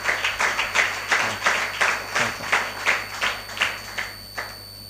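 Church congregation clapping hands together in a steady rhythm, about a dozen strong, loud group claps with no talk over them.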